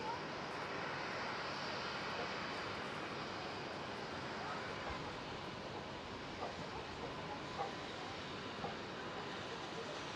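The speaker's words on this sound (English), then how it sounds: "There goes the Air Europe 787, I believe. Took off from the center runway." An Air Europa Boeing 787 jet takes off from the center runway at Amsterdam Schiphol, a steady broadband engine roar filling the air at moderate distance, with a little faint background noise.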